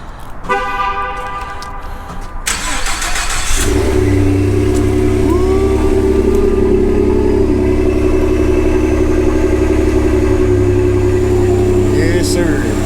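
A lifted 2015 Ford F150 with deleted resonators cold-starts: a short cranking burst, then the engine catches with a loud roar and settles into a high, steady fast idle, with a brief horn-like chirp at the start.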